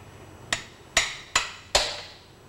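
A large hammer strikes a half-inch drive extension seated in the end of a Corvair pushrod tube, four sharp metallic blows at an even pace, each ringing briefly, close and loud.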